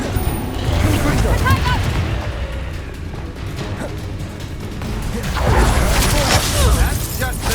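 Spell blasts and crashing explosions from the Confringo blasting spell in Hogwarts Legacy, loud and continuous with heavy booming impacts and clatter, mixed with game sounds and a voice speaking at times.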